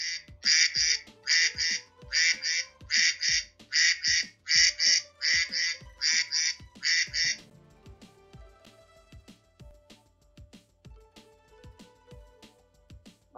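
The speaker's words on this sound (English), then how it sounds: "Ducks quack." A duck quacks in a quick, even series of about ten loud calls, then falls silent while soft background sounds continue.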